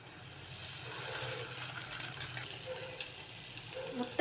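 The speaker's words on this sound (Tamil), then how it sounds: "உடச்சி வச்ச முட்டையை வந்து ஊற்றிக்கோங்க" Beaten egg poured into hot oil with onions, a soft steady sizzle and hiss at low volume, with faint stirring clicks near the end.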